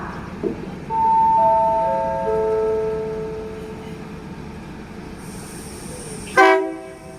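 A long-distance train's horn sounds at a station in a long sustained blast, fading off, then a second sharp, loud toot ends abruptly over a low rumbling background.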